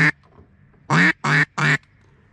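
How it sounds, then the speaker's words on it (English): Geese calling as they fly in during a waterfowl hunt, three loud, honking calls in quick succession after a single shorter call, close and clear over quiet background. "Oh, geese. I hear them. Oh, they're coming to me."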